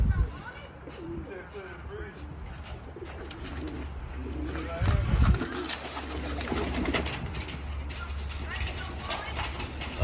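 Racing pigeons coo and rustle nearby while people talk over them throughout, the soft low calls repeating under steady background noise.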